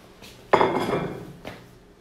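Clattering of kitchen items while a bagel goes into a toaster and a plate is fetched: one loud, close clunk of dishware with a ringing tail, followed by a softer knock.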